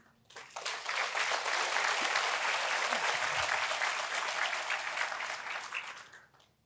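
Steady applause from the audience at the official opening ceremony of the Platreef Mine in Mokopane, Limpopo Province, swelling quickly, holding evenly for about five seconds, then fading out.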